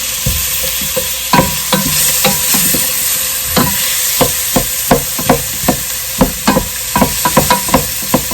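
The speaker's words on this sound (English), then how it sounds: "I'm just breaking up the onions in here." Onions sizzle loudly in a pan while a kitchen tool breaks them up, knocking and scraping against the pan in sharp, uneven taps that speed up toward the end over a constant frying hiss.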